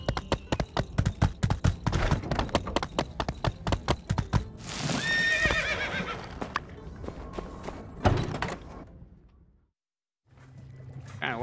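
Video game horse galloping with rapid, rhythmic hoof clip-clops, then a loud drawn-out neigh, some thuds, a brief gap of silence and faint movement resuming.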